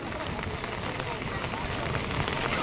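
Heavy, continuous rain pours down in Haridwar, a steady dense hiss of drops drumming on surfaces without a break, loud and close.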